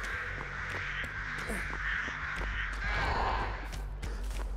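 Crows caw repeatedly in Dead by Daylight, their harsh calls layered over a steady low game rumble and ambient noise, moderately loud with no speech.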